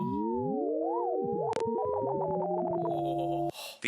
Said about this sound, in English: a sentence in Grapherit is made up of a series of overlapping tones